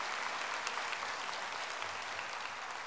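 A church congregation at a Korean Methodist Sunday service applauds together, a dense and steady clapping that fills the room at moderate volume without any voices over it.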